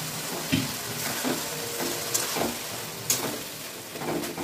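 Boiled tarka lentils cooking in a pan give a soft, steady sizzle broken by several light knocks and scrapes of a utensil, close and quiet, with no voices.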